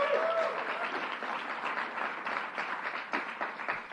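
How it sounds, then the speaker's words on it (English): Steady crowd applause at an LGBTQ+ Pride event marking a decade of marriage equality, a dense wash of clapping heard from some distance, moderately loud and continuous. "Let's give Kristen another round of applause."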